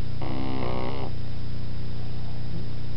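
Close up, a sleeping pug puppy gives one breathy, buzzing snore of about a second, followed by quiet room hum.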